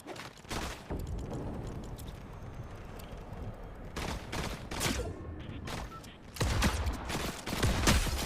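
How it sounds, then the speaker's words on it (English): Gunfire in Fortnite, with repeated sharp shots and bursts cracking loudly among continuous game noise, clustered at the start and again toward the end. "He's shooting at me."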